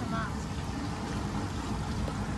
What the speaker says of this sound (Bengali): বাবা নৌকা চালাচ্ছে